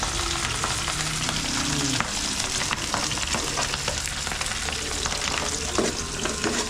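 Vegetables with malunggay leaves sautéing in a hot pan with fish sauce, a steady close sizzle and crackle with occasional stirring scrapes, no talking.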